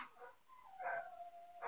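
Dogs in a home kitchen give a few yips and a drawn-out whining whimper, fairly faint and close, in quick succession.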